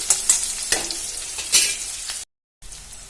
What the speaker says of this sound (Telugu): ఉల్లిపాయ ముక్కలు వేసిన తర్వాత కొంచెం వేగడానికి అయితే టైం పడుతుంది